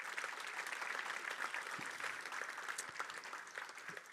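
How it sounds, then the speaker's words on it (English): Audience applause at a tech conference, steady crowd clapping of moderate density, heard from some distance and fairly quiet. "So if we could get a round of applause for Nicholas and Connie"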